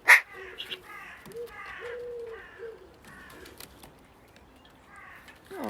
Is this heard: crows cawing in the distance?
yes